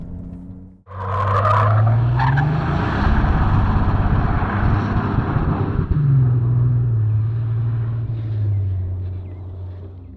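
A Ferrari 296 GTB, a V6 plug-in hybrid, is driven hard with traction control off, its engine roaring close and loud while the tires screech in a long skid that swells, dips and rises again.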